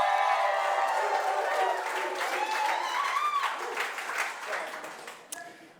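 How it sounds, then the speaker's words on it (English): Live studio audience applause at a product launch event, a soft wash of many hands clapping that gradually thins and fades over several seconds, with a voice faintly carrying through it. "Give yourselves a big round of applause for being here."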